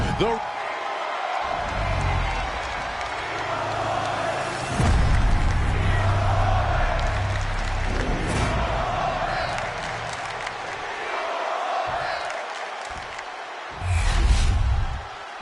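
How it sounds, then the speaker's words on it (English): A large arena crowd in a wrestling video game roars and cheers continuously, a dense wall of noise with swells, while a voice talks over it at times. "Listen to this crowd."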